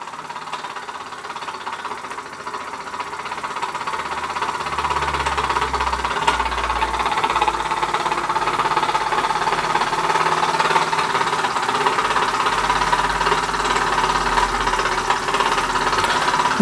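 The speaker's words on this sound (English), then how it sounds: "That's the Castle Products Model B steam engine from around 1955, under steam for the first time" A Castle Products Model B horizontal model steam engine from around 1955 runs steadily under steam, giving a continuous close mechanical chug and hiss with a low rhythmic throb that holds at an even level throughout.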